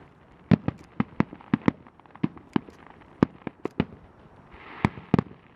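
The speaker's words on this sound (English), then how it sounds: "Man, fireworks are so cool." A rapid series of sharp fireworks bangs during a finale, roughly a dozen or more, irregularly spaced and echoing, with a soft crackle near the end.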